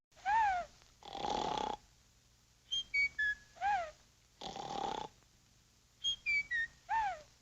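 Cartoonish snoring from a 1940 Looney Tunes short in a repeating cycle: rasping inhales alternate with whistling, sliding exhales from several sleepers in tuneful, close-up rhythm.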